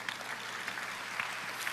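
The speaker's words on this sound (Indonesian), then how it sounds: "Tepuk tangan panjang." A church congregation claps during a sermon, producing a faint, sustained patter of many hands heard from a distance, with no voices over it.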